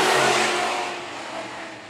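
Sport mod race cars at Phillips County Raceway dirt track, engines roaring loudly as a car passes close by down the back straightaway, fading slightly as it moves away.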